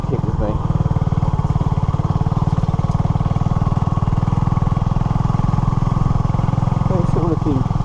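A Honda CB250RS motorcycle riding a bumpy green lane scattered with bricks, its small engine droning steadily and loudly up close for the whole stretch.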